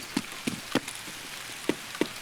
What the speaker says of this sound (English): It's raining, so it's going to be a little bit noisy.